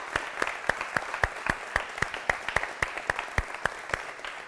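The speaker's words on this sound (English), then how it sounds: "Give a round of applause." Applause at a sales pitch training session for home security alarms, a small group clapping in a fairly slow, evenly spaced rhythm of distinct sharp claps, close and moderately loud.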